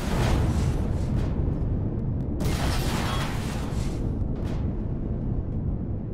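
An EMP turret is blown apart in the space game Empyrion Galactic Survival: a string of booming blasts with bright crackling bursts near the start and middle, then fading into a sustained low rumbling roar.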